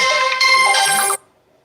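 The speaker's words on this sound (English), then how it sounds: "somebody called my phone" A mobile phone rings with an incoming call, a bright electronic ringtone playing loudly for about a second before cutting off into near silence.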